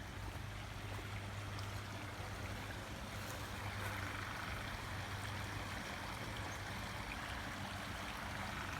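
A creek flows steadily at a quiet, distant level, a soft continuous wash of water with a faint low hum underneath and no voices.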